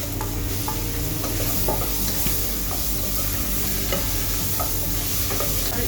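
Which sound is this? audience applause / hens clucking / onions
onions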